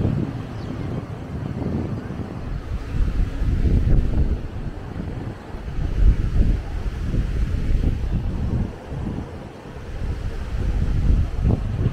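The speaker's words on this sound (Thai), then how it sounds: "บรรยากาศเย็นๆเนี่ยอยู่ริมทะเล" Sea waves and wind at Suan Son beach in Rayong make a continuous low roar, with gusts buffeting the microphone and surf surging unevenly throughout.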